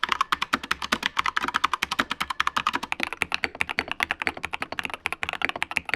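Rapid typing on mechanical keyboards, a Corsair K70 and a Maker M: dense, continuous clacking keystrokes in a fast, steady rhythm, close and crisp, with no talking.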